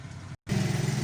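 Small motorcycle engine catching after a brief silence, then settling into a steady, close, mid-pitched idle putter.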